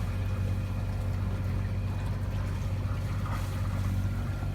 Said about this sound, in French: Donc là on part en moteur, il n'y a pas un pied de vent.